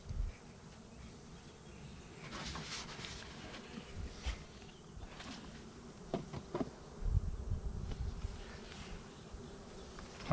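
Honey bees buzz steadily around a hive, with individual bees droning closer and louder now and then against a busy outdoor background.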